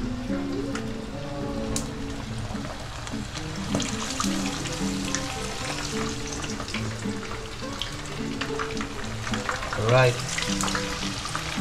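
Food sizzles in a hot kawali as pieces go in a few at a time, a steady crackling fry under intermittent kitchen clatter, with one brief spoken word.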